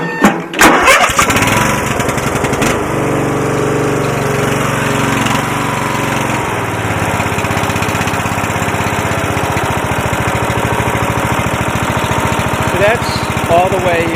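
A 2000 Murray wide body lawn tractor with a 14.5 HP engine and 42-inch deck runs at full throttle in neutral, a loud, close, steady mechanical roar with a chugging pulse, with brief talk near the start.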